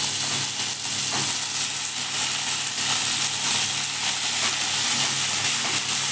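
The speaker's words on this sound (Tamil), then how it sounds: "எண்ணெய் கத்திரிக்காய்க்கு குண்டு குண்டாக கட் பண்ணி இதையும் போட்டு எண்ணெய் நல்லா வதக்கி" Chunky cut brinjal pieces fry in oil, giving a loud, continuous sizzle and hiss that holds steady throughout, with faint stirring knocks underneath.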